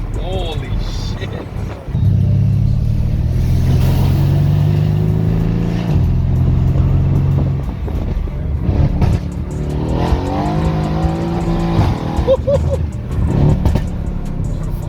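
A Mercedes-AMG C63S W205 revs hard while drifting, its engine note rising and holding loudly with tire squeal, close by, as people talk excitedly over it.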